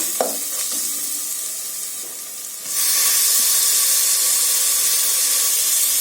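Mint leaves sauté in a pan with ginger-garlic paste for vegetable biryani, giving a moderate sizzle with a few stirring scrapes, then a sudden loud, steady hiss of frying.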